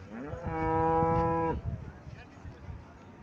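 A Haryana or Mundi breed dairy cow gives one loud, close, drawn-out moo lasting about a second, followed by quieter shuffling barn noise.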